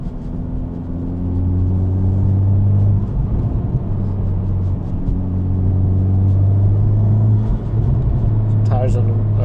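A 2023 Honda Civic Type R on Kumho V730 tires cruising along a road, with a steady low engine drone and road rumble inside the cabin that rises slightly near the end, as someone talks over it.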